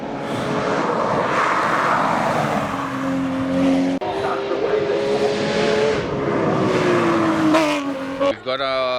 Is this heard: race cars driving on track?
yes